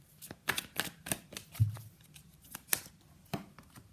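Tarot cards being shuffled and pulled from a deck for a Libra reading, a run of crisp, close papery flicks and snaps in an irregular rhythm, heard alone without talk.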